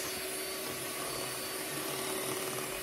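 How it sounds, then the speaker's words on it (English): An electric mixer blends egg and butter mixture for a cake, giving a continuous, even motor whine with a soft churning rumble underneath, steady and close for the whole stretch. "we're going to continue blend until all the egg mixture combined with the butter mixture."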